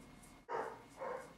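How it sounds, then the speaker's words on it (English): A dog barks twice in the background of a quiet indoor room, two short muffled woofs about half a second apart, faint and distant. "Sorry about my dog barking in the background."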